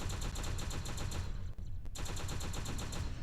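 Rapid automatic gunfire from a gun in a video game, a steady rattling stream of shots with a brief pause partway through, sounding fairly close and without talk.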